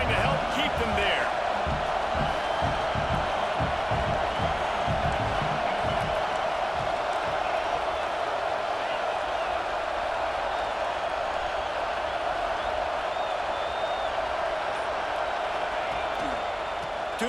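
Stadium crowd noise from the College Football 26 video game, a steady loud roar of cheering fans holding throughout a second-and-seven play with a team pinned deep in its own end, with faint commentary-like voices beneath.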